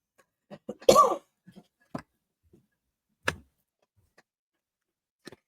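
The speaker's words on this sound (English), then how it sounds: "I started coughing." A few quiet, isolated coughs and throat-clearing sounds from one person indoors, close to the microphone in an otherwise silent room, one cough noticeably stronger than the rest.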